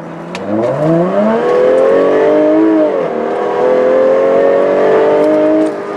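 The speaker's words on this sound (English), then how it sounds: "Okay, so standing start. Let's put some throttle in it." 2015 Jaguar F-Type Coupe pulling away hard from a standing start, the engine rising loudly through the revs, dipping at a gear change, then climbing again, heard up close with no talk.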